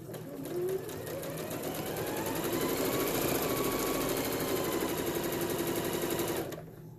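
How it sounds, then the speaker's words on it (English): A sewing machine stitches a seam on a four-patch quilt coaster, a rapid steady mechanical whirr with fast needle clatter running for about six seconds before stopping abruptly, close and alone. "when you sew along this seam, they're nice and tight together"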